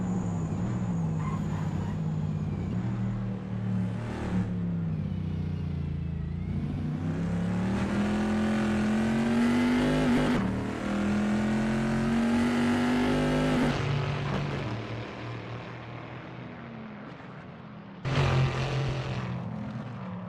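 A vintage Bizzarrini race car, a pre-1973 entry, runs flat out at Imola through the Tamburello section. The engine note stays loud and steady, climbing in pitch through the gears before a brief drop and another rise as it shifts.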